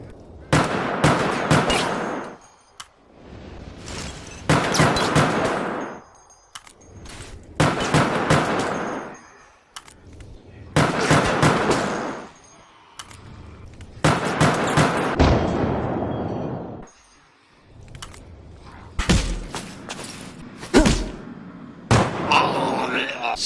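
Handgun shots from Resident Evil: Operation Raccoon City ring out in sharp bursts between long stretches of game noise and voices, several distinct cracks clustered near the end.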